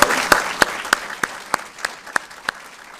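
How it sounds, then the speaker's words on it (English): At a Hall of Fame induction ceremony, sharp, evenly spaced claps ring out about three times per second over a faint room hum, sounding like a few hands clapping in rhythm rather than a full crowd. "Let's give each of our class of 2023 Hall of Fame inductees a round of applause."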